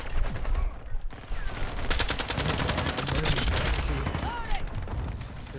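Dense gunfire and decoy grenade bursts from Call of Duty: Modern Warfare II come as rapid, loud volleys of automatic shots. The bursts crowd together and fill the whole stretch with a fast, steady crackle.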